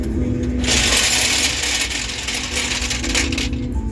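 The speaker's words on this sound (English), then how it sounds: "all of the rounds that are loaded in this tube here are going to just come rushing out of the bottom of the gun" Loaded rounds spill out of the bottom of a gun's magazine tube in a video game, a dense rattling, clinking cascade that runs steadily for about three seconds at close range.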